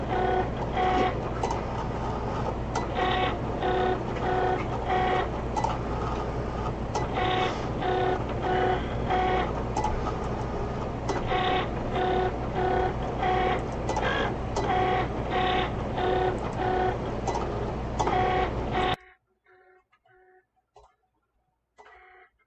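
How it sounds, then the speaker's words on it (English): A Cricut cutting machine at work on a DIY cake stand project, a loud, steady mechanical whirr with rhythmic carriage clicks and stepping pulses for about nineteen seconds, then cutting off abruptly into near silence. "And then we're going to let the Cricut do its job."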